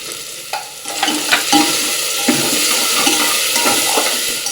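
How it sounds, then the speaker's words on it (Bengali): Onion, tomato, ginger, garlic and green chili fry in a hot pan while being stirred, a steady close sizzle broken by repeated scraping strokes of the spatula, with no voices. "পেঁয়াজ টমেটো আদা রসুন সব ভাজা ভাজা হয়ে গেছে"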